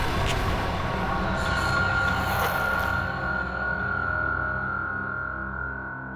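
A train standing at a railway platform gives off a loud, continuous engine rumble with a steady high whine on top, the drone easing slightly toward the end, with no voices.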